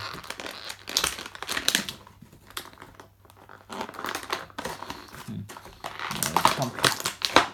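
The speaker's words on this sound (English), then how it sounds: "I'll remove everything from its packaging." Scooby Doo anniversary figures being unwrapped from plastic packaging: close, irregular crinkling and rustling bursts with scattered clicks and tearing, and a person talking intermittently over it.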